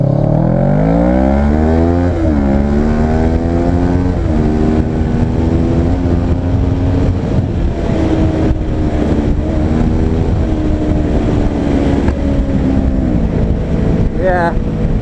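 A motorcycle rides along a street, its engine droning loud and close with rising and falling gear-change sweeps, a rider's voice talking over it throughout.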